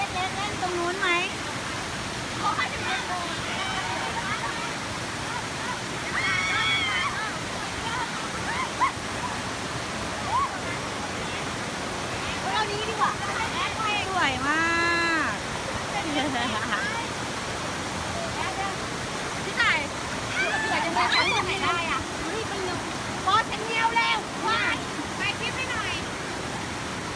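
A waterfall near Ban Na Chaluai roars in a constant broad rush, loud and close, while voices talk and children can be heard playing over the noise.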